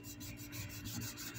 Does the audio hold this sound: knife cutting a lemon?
yes